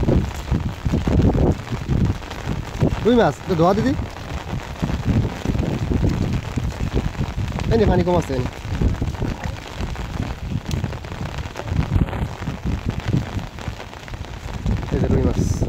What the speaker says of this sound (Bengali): আজকে প্রচুর বর্ষা প্রচুর বৃষ্টি